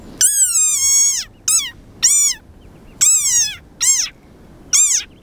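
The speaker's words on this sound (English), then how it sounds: "this is the sonorous war cry of a very angry frog" A desert rain frog gives a series of loud, shrill squeaks, six drawn-out cries with short gaps between, very close and piercing like a squeaky toy.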